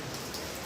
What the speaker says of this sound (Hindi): और अब बारिश भी चालू हो गई बम्बई में